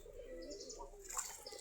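Giribaj pigeons in a coop give a soft, steady flutter of flapping wings with faint cooing and chirps, all quiet and close, with a slightly brighter burst near the end.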